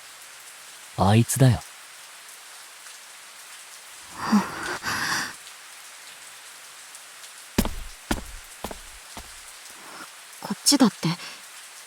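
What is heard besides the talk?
rain falling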